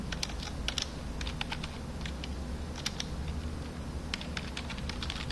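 Keys clacking on a computer keyboard as an email address is entered, quiet rapid irregular taps in short bursts over a low hum, with no talking.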